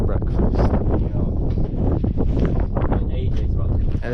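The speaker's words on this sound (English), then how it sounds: "Really, really windy" Strong wind buffets the microphone on an open fell in the Lake District near Hart Crag in below-freezing cold, a constant loud roar with gusty surges throughout, and no talking.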